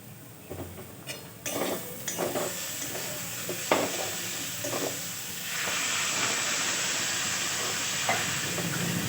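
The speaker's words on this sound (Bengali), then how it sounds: "আমি এরপরে ভাজবো এই আলু কষা হয়ে গেছে এর সাথে আমি ভেজে নেবো" Cubed potatoes fry in a hot wok with salt, a close steady sizzle under intermittent clattering stirs of a spatula that give way to a louder, even hiss in the second half.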